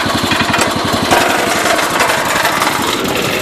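A John Deere 210 garden tractor running with its Model 43 front blade raised, a loud close engine with a fast rhythmic rattling knock throughout.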